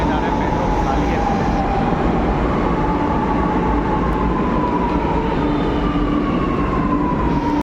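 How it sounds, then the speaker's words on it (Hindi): A Lucknow metro train runs loudly at close range, a dense rumbling roar with a slowly shifting tonal whine as it moves, constant throughout. "तो दोस्तों हमारी मेट्रो आ चुकी है और इसी में हम लोग को बैठना है"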